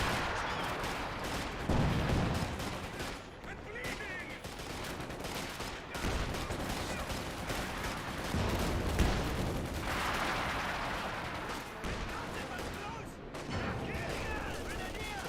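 An artillery barrage in Company of Heroes 2, rolling booms and crackling gunfire layered across a continuous loud battle soundscape.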